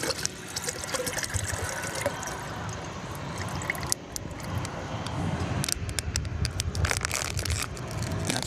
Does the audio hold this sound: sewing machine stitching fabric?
no